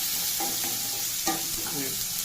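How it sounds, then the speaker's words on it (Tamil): Onions and tomatoes sauté in a pan for pakoda kuzhambu, a Tamil gravy, giving a steady close sizzle and fry hiss with a few brief stirring scrapes and no talking. "வெங்காயம் கொஞ்சம் செவந்ததும் தக்காளி போட்டு வதக்கணும்."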